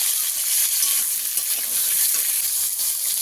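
Thinly sliced pumpkin fries in hot oil in a wok, giving a continuous bright sizzle and crackle at close range with no voices.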